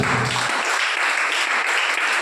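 A church congregation claps loudly together, a dense steady roar of many hands filling the room for a couple of seconds without pause.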